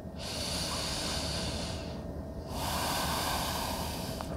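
Long, forceful breaths during a yoga sun salutation, heard close up as two sustained airy rushes, one from the nose and one exhaled, separated by a brief pause.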